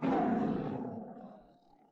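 A male tiger lets out one deep, rough roar that starts loud and close, then trails off over about two seconds, with no talking.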